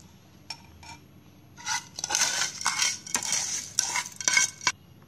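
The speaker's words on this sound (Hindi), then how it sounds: "अब सारी चीज़ों को हम अच्छे से मिक्स कर लेंगे बैटर में" A spoon scrapes and clinks through thick semolina idli batter in a bowl, several close, uneven stirring strokes with short pauses, no talking.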